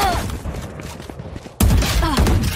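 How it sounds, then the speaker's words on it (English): Gunfire in Valorant during a competitive esports match, a burst of rapid shots first muffled and distant, then suddenly louder and closer as weapon fire and game effects crowd the mix. "That's a nice shot from Brams, though"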